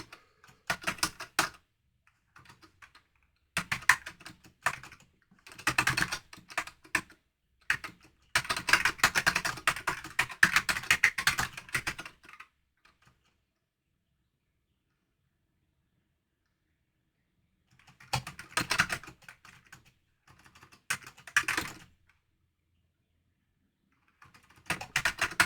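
Computer keyboard typing in quick bursts of clicks and clatter, close and fairly loud, pausing for several seconds of near silence before resuming, with no talking.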